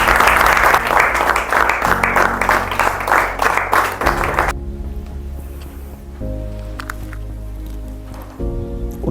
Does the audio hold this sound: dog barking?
no